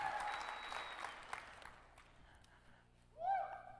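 An audience applauds with a dense patter of clapping that tapers off over a couple of seconds. A single voice then begins speaking near the end.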